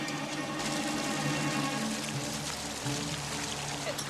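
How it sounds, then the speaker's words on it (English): High-test gasoline pours and splashes continuously onto the surface of water, a steady gurgling wash with a faint mechanical hum underneath. "He splashes high-test gasoline across the surface of the water."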